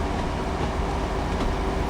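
A train running on rails in Train Sim World 5 on the Blackpool South to Ormskirk route, a loud, continuous rolling rumble with broadband rail noise throughout and no speech.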